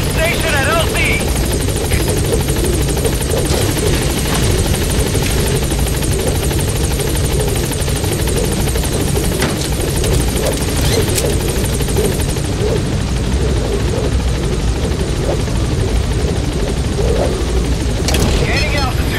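In the Metal Gear Solid 5 video game, a support helicopter arrives at a landing zone. Its rotor drone roars loud and unbroken throughout, with radio-style speech over it.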